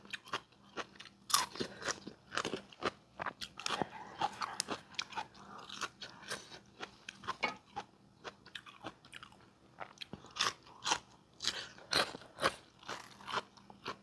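Close, crisp crunching and wet chewing from someone eating rice with shrimp-paste lime chili dip and boiled vegetables, with irregular bites and mouth sounds repeating steadily and no talking.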